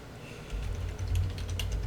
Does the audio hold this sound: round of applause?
no